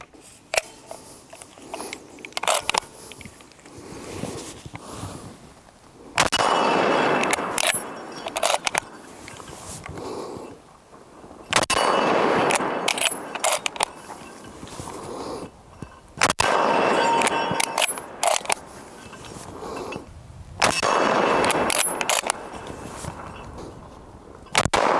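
Lee Enfield .303 bolt-action rifle fired outdoors, several sharp loud reports spaced a few seconds apart, each followed by the clack of the bolt being worked, with quieter handling noise between shots.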